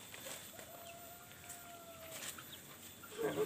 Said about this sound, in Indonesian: Wah, banyak ayam kampung